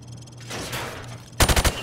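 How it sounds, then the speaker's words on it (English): Rifle fire from the hip at a shooting range in Call of Duty Modern Warfare, a short burst of four loud rapid gunshots after a quieter stretch of game ambience. "Now, shoot at the targets while firing from the hip."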